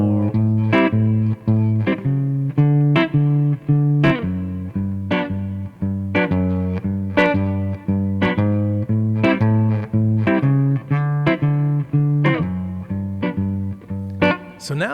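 Jazz guitar comping over a blues, each chord slid into from a half step below, heard as steady rhythmic chord stabs with clean note attacks, played alone without talk.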